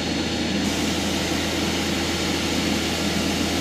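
A machine tool makes a finishing cut on a laser cutter head with coolant on, giving a steady, loud broadband hiss and hum with no break.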